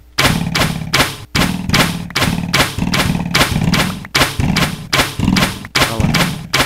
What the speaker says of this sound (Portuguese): Ele fica disparando as flechas.